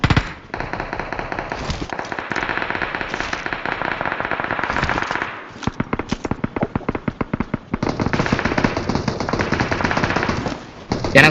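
Rapid automatic gunfire in the video game PUBG on the Livik map, long loud bursts of fast shots broken by short pauses and single cracks, continuous and close throughout with no talk.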